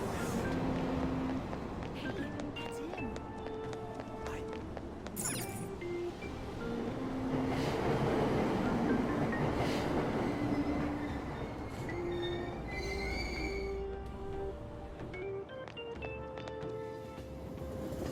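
A subway train in the video game Persona 5 Royal rumbles and squeals as it pulls away from a station platform, wheels clinking and screeching over a steady roar that swells and fades.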